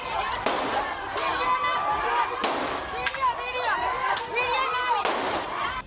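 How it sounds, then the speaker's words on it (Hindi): Police firing shots into the air at an unruly crowd: five or so loud sharp bangs spaced roughly a second apart, echoing over a noisy backdrop with voices. "इसके बाद पुलिस को हवा में एक के बाद एक कई गोलियां चलानी पड़ी।"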